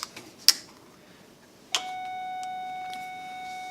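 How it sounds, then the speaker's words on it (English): A school's late lunch bell rings as a sustained electronic tone after a sharp click, holding steady at moderate volume in a quiet room. "that's the late lunch bell"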